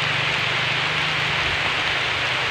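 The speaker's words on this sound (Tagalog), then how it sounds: "sumilong muna tayo dahil biglang umulan po" Steady rain falls around a shelter beneath an anahaw palm, a dense, even hiss of drops holding at one level from start to finish, with a low hum underneath and no talking.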